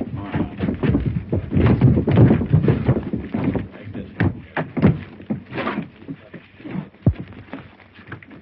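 Horses' hooves clip-clop on the ground in an early 1930s Western, with irregular close hoofbeats and scuffling throughout that is loudest in the first few seconds and then thins into scattered sharp knocks.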